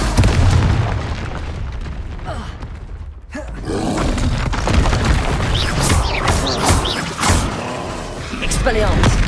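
Booming blast-spell explosions in the Hogwarts Legacy video game, heavy roaring bursts over a busy battle din, with a brief lull midway before more pops and rumbles; a voice shouts over the action.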